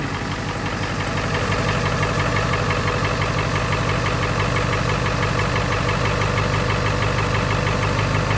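A 2001 Ford E450 Super Duty with a 7.3 Power Stroke diesel and a straight pipe idles after a cold start, a loud, steady, close rattling clatter with rhythmic knocking that holds unchanged throughout.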